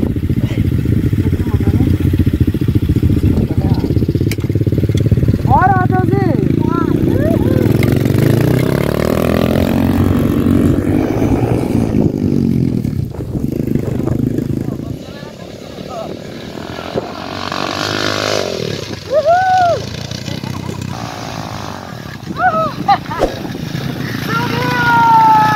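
A motocross motorcycle engine roars loud and close, revving and accelerating with a rising, wavering whine that later drops away, while people talk over it.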